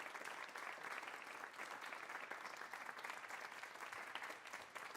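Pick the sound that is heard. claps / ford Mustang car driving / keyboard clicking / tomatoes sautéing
claps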